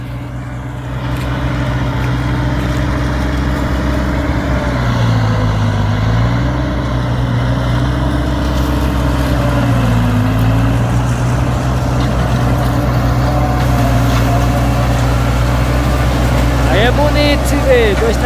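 A Massey Ferguson 4292 tractor drones steadily while making corn silage, its low engine tone loud and close, rising and falling slightly in pitch, with someone talking over it.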